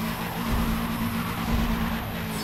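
Volkswagen Scirocco racing in a Need for Speed World Stadium and Chase multiplayer event, a steady loud engine drone with continuous low rumble and faint tire hiss, no voices.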